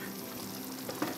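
Steady sizzling and bubbling of estamboli polo ingredients cooking over high heat in a hot pan, a continuous close hiss with a couple of small spits near the end.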